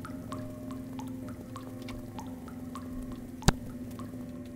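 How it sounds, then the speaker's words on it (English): Sparse water drips plink in a steady, slow pattern over a low ambient hum in the video game Neko Yume, with one sharper drip standing out near the end. "Drip, drop, drip, drop."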